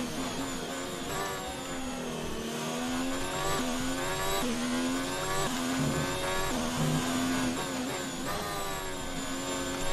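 A Formula 1 car in F1 2019 revs hard through its gears on the German circuit, a loud continuous high-pitched engine whine that rises and drops with each upshift and lift, with no talking over it.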